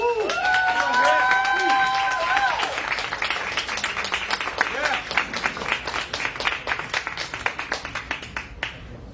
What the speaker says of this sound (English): Let's get a round of applause for Grant